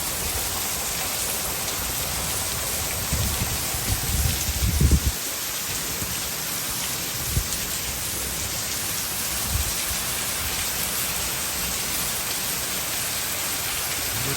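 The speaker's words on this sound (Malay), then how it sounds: "Ini hujan sekejap je." Heavy rain pouring steadily in a wet rural setting, a dense continuous hiss with a few low rumbles, no voices.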